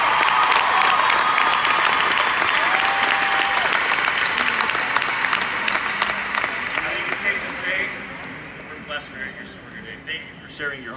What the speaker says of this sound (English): give another round of applause for Craig Daigle.